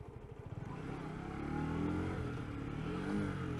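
Lexmoto ZSB motorcycle engine revving in neutral with an engine warning light on, a close mid-pitched buzz that climbs and holds at high revs before easing slightly, heard alone.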